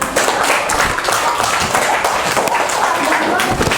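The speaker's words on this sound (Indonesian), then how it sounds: "Ya, beri tepuk tangan." Classroom applause for a student group, a short burst of clapping from a small crowd that runs across the whole moment with a voice speaking over it.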